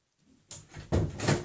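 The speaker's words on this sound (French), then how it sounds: "je vais aller fermer ma porte 4 secondes" An indoor door being shut at home, a soft shuffle followed by two solid knocking thuds as it swings closed and latches, close by with no talk.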